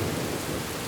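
Storm rain and thunder sound effect: a dense, loud wash of heavy rainfall with a deep rumbling low end, steady and unbroken for under a second with no voices.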